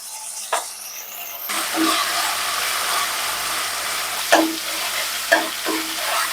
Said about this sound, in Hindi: तेल गरम होने के बाद इसमें हम 50 ग्राम प्याज कटिंग करके डाले हैं।